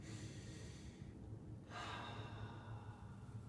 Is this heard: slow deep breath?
yes